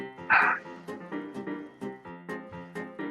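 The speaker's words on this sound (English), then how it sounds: "Am I playing with a dog?" Small dog barking repeatedly over a Rocket League voice chat, close and loud in a steady series of sharp yaps about every third of a second, heard through the microphone with a brief burst of noise near the start.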